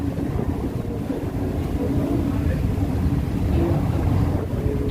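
A boat motor drones steadily and loudly for several seconds on a sea crossing in heavy waves and rain, a continuous low rumble mixed with rushing noise.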